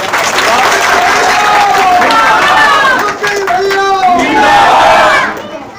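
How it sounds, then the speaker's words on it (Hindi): A crowd at an outdoor BJP election campaign rally claps loudly, with shouts and cheering voices layered over dense, sustained applause that fades out at the end. "एक बार जोरदार ताली बजाकर"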